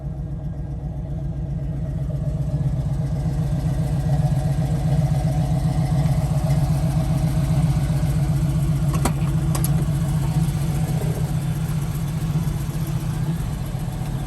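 A 1968 Chevrolet Camaro engine idling, a steady low rumble that holds close and even for the whole stretch, with a couple of faint clicks partway through and no talk.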